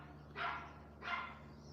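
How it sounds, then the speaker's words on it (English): A dog outside gives two short, muffled barks about half a second apart, faint and distant, as if calling to be let back in. "That does sound like a I'm trying to get your attention bark."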